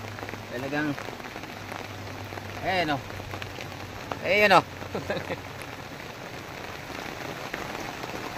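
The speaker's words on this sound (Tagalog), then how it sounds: "Inabot na kami ng ulan." Rain falls steadily at a campsite at night, making a constant patter on surfaces close by, with voices talking over it now and then.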